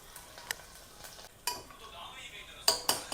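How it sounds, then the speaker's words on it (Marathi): A large spoon stirring food in a pan during tempering with coriander, giving sharp intermittent scrapes and clinks over a faint sizzle, close and quiet, with no speech. "हे एवढा मोठा चम्मच मी काढलेला असून मी ह्याने ढवळत बसली आहे."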